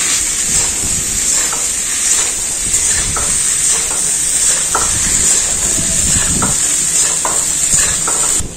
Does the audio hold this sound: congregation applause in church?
no